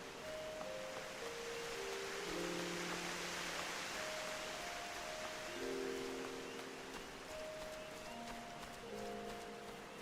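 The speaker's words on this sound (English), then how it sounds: "Well, it's raining" Steady hissing rain in the video game Final Fantasy XIV falls continuously while soft, gentle melodic tones drift quietly underneath.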